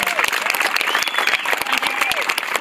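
A crowd at a Moorestown Relay for Life kick-off event applauds two young ladies, with steady clapping and a few whoops and raised voices over it.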